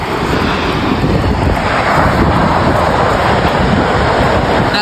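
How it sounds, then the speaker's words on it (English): Strong wind blows at a waterfall on a wet, blustery outing, a loud and steady broadband roar that buffets the microphone without a break and may blend with rushing water. "It's so windy, it feels so good."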